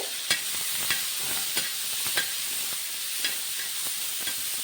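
Finely chopped onion frying in a pan for a dal tadka, giving a steady sizzle broken by regular, distinct spoon scrapes and taps about every half second, close up with no talking.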